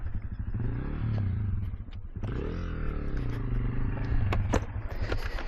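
A motorcycle is ridden and shifted up through the gears, its engine droning loud and near, the pitch dropping with a gear change partway through, with clattering mechanical noise on top.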